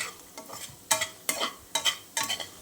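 Crispy square potato pieces fry in a pan, with a soft background sizzle broken by four sharp scraping stirs at regular intervals, close up and with no talking.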